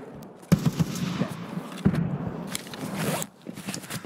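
Machine gun fire in a shooter video game comes as punchy bursts of shots, two distinct clusters of sharp reports with scattered louder noise between them, close and fairly loud.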